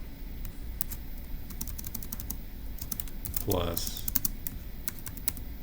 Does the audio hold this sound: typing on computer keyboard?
yes